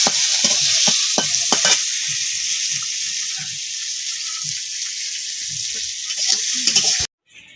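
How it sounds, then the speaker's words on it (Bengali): Onions with ginger and garlic frying in hot oil in a pan, a loud continuous sizzle with several sharp stirring knocks early on, fading to a steady hiss before cutting off abruptly. "এই যে পেঁয়াজটা ভাজা হয়ে গেছে"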